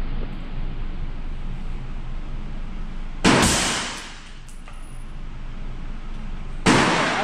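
A suppressed Honey Badger SD rifle in 300 BLK fires two sharp, loud reports several seconds apart, each a broadband crack with a short decaying tail, over steady outdoor background noise.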